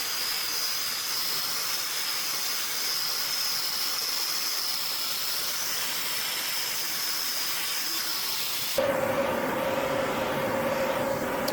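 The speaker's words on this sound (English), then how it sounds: "it's off to wire wheeling to get them nice and smooth" A wire wheel smooths freshly forged broom needles with a continuous, loud, hissing whir and a high whine, shifting to a lower, rougher grind for the last few seconds.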